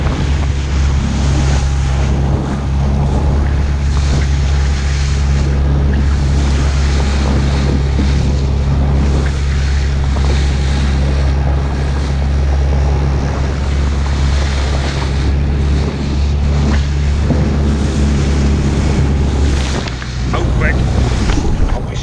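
Loud continuous roar of a small Excel Volante 390 boat running fast at about 19 to 20 mph, with hissing spray at the bow and wind rushing past, steady throughout.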